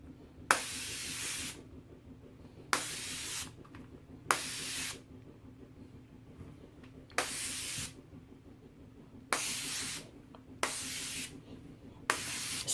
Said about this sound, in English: See if I can spray this leg with a lighter touch.